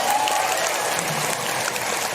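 Audience at a humorous Islamic lecture breaks into loud, dense applause, a continuous roar of clapping with no talking.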